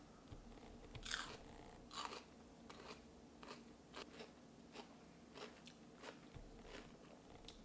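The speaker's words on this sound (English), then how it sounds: "I just need someone else to hear the beauty of these pickles." Close, crisp crunches as a home-preserved sweet and sour pickle is bitten and chewed, with a few louder bites followed by steady chewing crackles.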